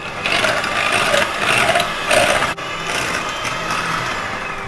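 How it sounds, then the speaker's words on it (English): An electric hand beater whirs steadily through waffle batter with vanilla essence, a loud continuous high whine with slight pitch swells and one brief dip. "I'm just going to beat till it's well combined"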